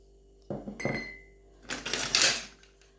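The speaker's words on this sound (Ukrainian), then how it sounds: "Додаю цукор." Sugar, about 100 grams, tipped into a sweet pie dough mixture, making a brief grainy rustling pour after a couple of soft knocks against the bowl.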